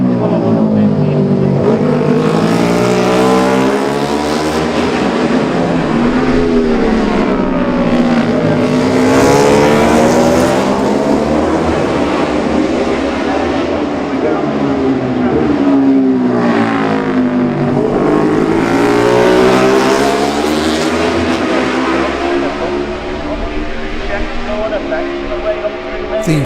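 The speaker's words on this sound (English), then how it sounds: "The first bikes into Parliament Square are a quartet of Hondas" A quartet of Honda racing motorcycles at the 2018 Classic TT junior race roar loudly into Parliament Square, engines rising and falling in pitch as they pass close, continuous and dominating, with commentary running underneath.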